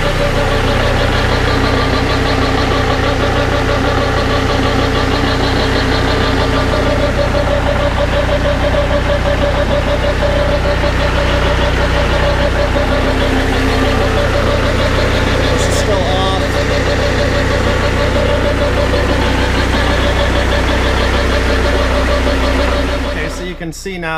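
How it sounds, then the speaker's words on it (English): A Kubota B7100 compact tractor idling with its PTO driving a NorthStar generator: a steady, loud, close diesel chug with a constant knocking throb, running unbroken until it cuts off at the very end. "I'm just gonna fire up my tractor and I'm gonna go ahead and engage the PTO and just let this thing idle a little bit"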